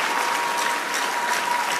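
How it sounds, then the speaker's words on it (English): Audience at a leadership conference at a Christian centre applauds a speaker, a loud, dense and steady roar of many hands clapping with no pauses. "Mona, clap for him again."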